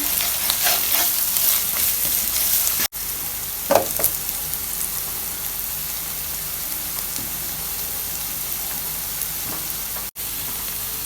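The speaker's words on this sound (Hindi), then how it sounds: "मिक्स करने के बाद अब हम इसमें अपने मसाले ऐड करेंगे और उन्हें मिक्स कर लेंगे" Spices are stirred into a pan of frying fish biryani masala, giving a steady, close sizzle throughout with soft scraping stirs and two brief cuts in the sound.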